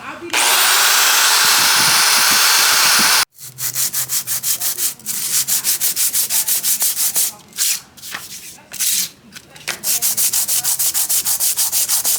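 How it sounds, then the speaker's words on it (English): A wire wheel strips an aluminum motorcycle heat exchanger part for a BMW F800GT, first in one steady, loud abrasive burst, then in a run of rapid rhythmic scrubbing passes with short breaks between them. "I'm stripping this with a wire wheel."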